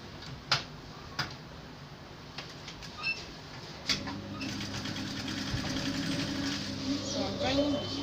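Sewing machine stitching the shoulder seam of a jumpsuit, with a few sharp clicks at first and then a steady running whir with a faint mechanical hum that holds to the end.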